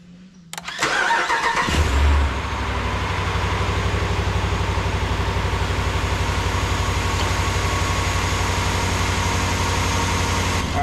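A 2019-or-later RAM 1500 with the 5.7L V8 cranks briefly and catches with a loud flare. It then settles into a steady, even idle rumble that runs alone for the rest of the moment.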